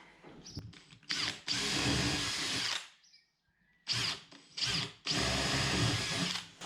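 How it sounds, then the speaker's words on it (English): A power drill whirs in several short bursts with brief pauses between, close and loud, drilling bolt holes through a boat seat board. "So quickly drill these."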